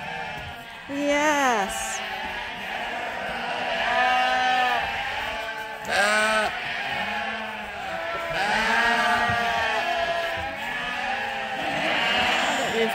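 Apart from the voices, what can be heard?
sheep bleating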